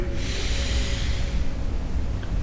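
A steady stream of breath during a hatha yoga session, an airy, continuous exhale close to the microphone with a faint snort-like edge, no talking over it.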